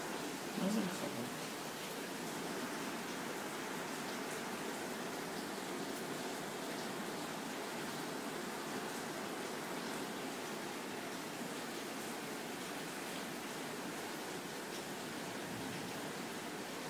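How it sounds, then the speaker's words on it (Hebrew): Morning rain falls steadily on the kibbutz Beit Zera, a soft constant hiss of drops on surfaces that stays even throughout, with a brief faint knock near the start. "אוהו, איזה גשם."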